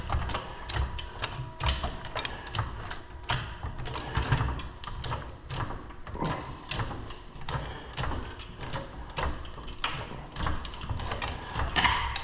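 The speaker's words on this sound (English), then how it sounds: "Position them underneath, right on where the A-arms go in the front and the cross member, and then start jacking" Two floor jacks raising a Ford F150 at the front A-arms and cross member, a rapid series of close metallic ratcheting clicks and clanks pumping in uneven rhythm.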